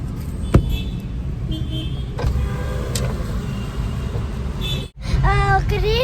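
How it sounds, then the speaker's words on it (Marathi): Bangalore road traffic heard from inside a vehicle: a low engine rumble and passing cars hold steady, with brief sharp sounds, and a person talks near the end. "तुमकां दाखयता बेंगलोरचें ट्रॅफिक पळयलें"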